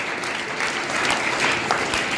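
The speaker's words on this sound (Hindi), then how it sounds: "ताली बजा दो जोरदार।" Loud, dense applause from the audience at a village quiz competition held on Gandhi Jayanti, a steady clapping roar throughout with faint voices underneath.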